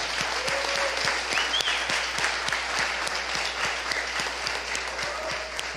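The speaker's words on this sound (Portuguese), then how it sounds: "Pode aplaudir." A church congregation applauds steadily in a reverberant hall, with dense clapping at moderate loudness, a faint voice briefly audible underneath.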